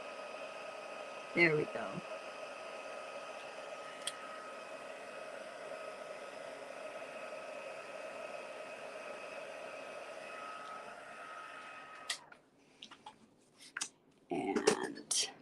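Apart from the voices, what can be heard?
heat tool heat setting a mini card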